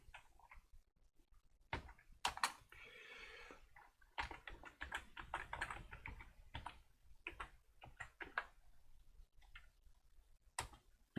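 Rapid clicking of a computer keyboard as someone types in a terminal text editor, with irregular bursts of close keystrokes and short pauses and no talking.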